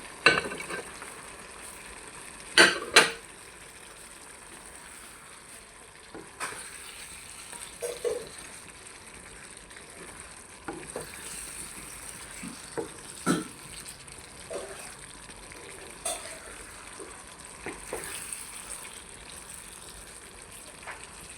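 Chicken pieces frying in a pan for restaurant-style chicken bhuna give a steady soft sizzle, with sharper clatters of stirring now and then, heard close with no talk.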